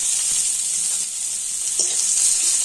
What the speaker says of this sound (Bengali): পেঁয়াজটা একটু লাল করে ভেজে নিচ্ছি